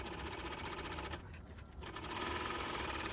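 Sewing machine stitching a fabric pouch runs with a fast, steady mechanical whir of rapid needle strokes, pausing briefly in the middle before resuming, close and alone.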